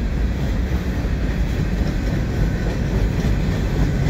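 A CN ES44AC locomotive hauls a mixed freight train past the Dorval ramps, a loud, steady, dense rumble of rolling cars and wheels, close and continuous.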